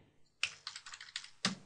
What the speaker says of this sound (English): And so we can begin typing.